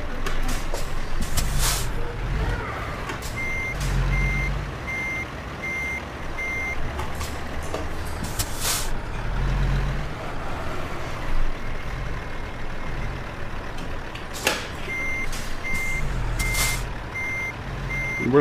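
Steady electronic reversing beeps from a truck rig in a driving simulator game, repeating in short evenly spaced runs with pauses, over a low engine idle and occasional air-brake hiss.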